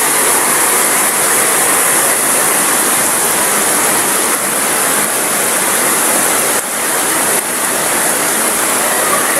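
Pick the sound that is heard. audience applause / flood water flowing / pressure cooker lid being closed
flood water flowing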